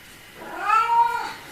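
A ginger cat begging for pork gives a single drawn-out, pleading meow that rises and falls over about a second. It is close and clear against a quiet room.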